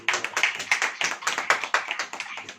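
A church congregation claps hands together during a sermon, a dense burst of many overlapping claps with an uneven rhythm that rises and falls, loud and close, with no talk over it.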